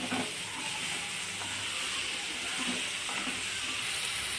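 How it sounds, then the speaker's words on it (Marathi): Marathi-style pumpkin bhaji frying and being stirred in a pan, a steady close sizzle and hiss with faint scraping strokes of the spoon at intervals. "छानपैकी मिक्स करून घेते."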